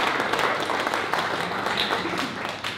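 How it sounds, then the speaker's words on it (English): A crowd at a boxing press event gives a sustained, dense round of applause, loud and continuous throughout, with a little talk mixed in. "Big round of applause for Carly this week."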